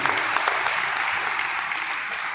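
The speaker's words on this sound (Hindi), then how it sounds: "जोरदार तालियां होनी चाहिए इतनी शानदार संस्था के लिए" Audience at a business plan presentation breaks into steady, dense applause, many hands clapping at once in a continuous, fairly loud wash that holds evenly throughout without any voices.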